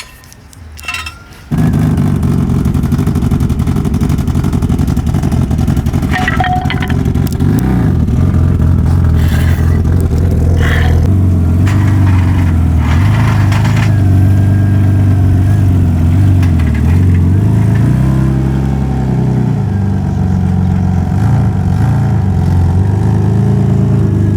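A BMW E36's engine runs loud and close as the car is driven, holding a steady drone that swells and eases as the revs rise and fall over about twenty seconds, with no talking.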